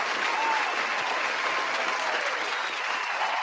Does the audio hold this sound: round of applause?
yes